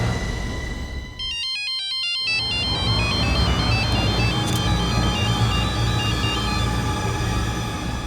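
A phone ringtone plays a repeating electronic melody that continues steadily over a low background hum, with no talking.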